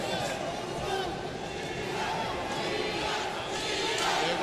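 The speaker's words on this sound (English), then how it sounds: "There goes the crowd." A boxing arena crowd at a Morales versus Diaz fight roars in a dense, sustained wash of cheering and shouting that swells slightly toward the end, with voices mixed into the noise.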